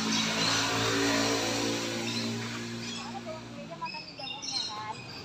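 Birds chirp and tweet in an eco park aviary with small wild birds flying in and out, quick bright calls scattered through the last seconds after a steady low hum fades.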